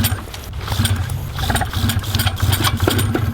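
A Fly Products Rider paramotor engine fires up on the first pull and runs with a loud, rough, pulsing roar close by, outdoors in wind, with no voices.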